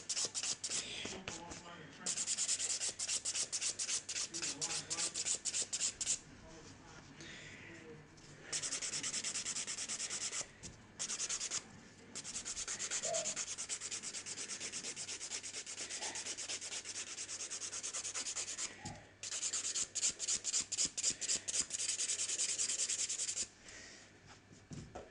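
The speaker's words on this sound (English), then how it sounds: "I'm just showing you slow motion how I actually do my filing" Nail file rasping against acrylic nails, close and crisp, in long runs of quick back-and-forth strokes broken by brief pauses.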